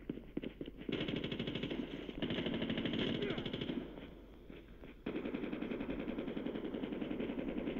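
Rapid automatic AK-47 fire in a Call of Duty or Fortnite match rattles out in sustained loud bursts with brief gaps, close and dominant, with faint game noise beneath.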